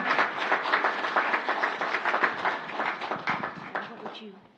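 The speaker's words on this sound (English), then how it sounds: "Let's give him a round of applause" Applause for a police officer of the year at a city council meeting: dense, close clapping from a small audience that stays steady and then tapers off, with a voice briefly audible near the end.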